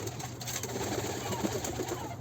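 Pigeons kept in a loft coo softly in a low, continuous murmur, with several birds layered together at close range and no talking.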